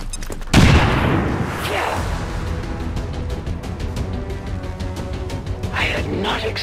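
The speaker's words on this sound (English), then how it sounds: "Bombs away!" Bombs exploding in XCOM 2: War of the Chosen, opening with a sharp, loud blast and rolling into a sustained, dense rumble of detonations and crackling debris that carries on steadily to the end.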